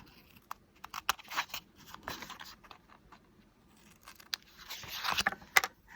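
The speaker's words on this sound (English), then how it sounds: "we'll bring in some scissors to cut the sides of our washi tape here" Quiet scissor snips and light scraping as scissors trim washi tape, several short irregular cuts close by, with soft rustling in between.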